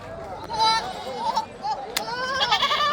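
Goats bleat at a weekly goat market in Yeldari, their wavering calls rising repeatedly over a busy crowd as people talk nearby.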